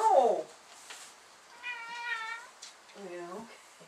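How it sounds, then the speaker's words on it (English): Domestic cat meowing indoors: a loud opening meow followed by two softer drawn-out mewing calls, close to the microphone, with no talk over them. "What a great kitty cat."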